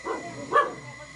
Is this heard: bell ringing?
no